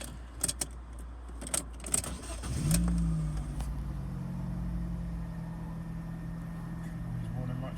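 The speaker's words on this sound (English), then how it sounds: "But yeah, the engine sounds fine." A Fiat Doblo van with a wheelchair ramp conversion starts after a jangle of keys, its engine catching with a brief rev and then settling into a steady, close idle that continues to the end.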